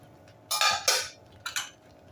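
Spoon clanking against a pan while mung dal pithla is stirred, three or four short metallic scrapes and knocks close by, with no talk.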